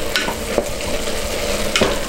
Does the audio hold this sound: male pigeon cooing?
no